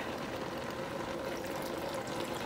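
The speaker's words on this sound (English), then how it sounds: "We're going to add water until they're covered." Water pours into a pot over shrimp shells for a shrimp stock, a soft, even gushing rush that holds steady and fairly faint with no talk over it.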